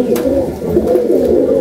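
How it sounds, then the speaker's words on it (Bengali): Saharanpuri pigeons coo steadily from close by, their low, throaty calls overlapping in a continuous murmur with no talking. "খুবই রেয়ার পায়রা এগুলো"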